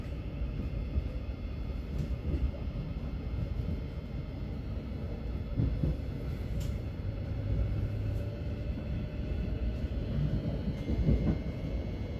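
Rumbling ride inside a moving London Thameslink train between Abbey Wood and Blackfriars, steady low wheel noise with occasional rattles and clacks, no talking.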